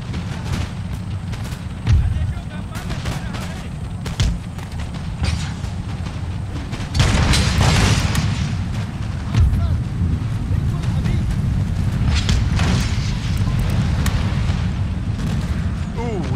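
Artillery cannon fire in Empire: Total War during a Maratha campaign battle: several deep booms spaced a few seconds apart over a steady rumble of battle noise, growing denser and louder partway through.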